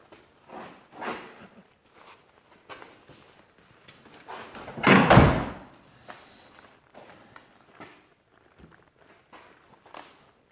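A door with a repaired handle and refitted door panel swings and shuts with one loud, heavy slam midway, surrounded by soft footsteps and light shuffling in a quiet room.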